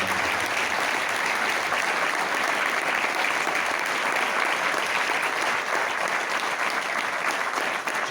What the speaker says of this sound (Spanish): el mejor aplauso tiene que ser para esa gente que montó esto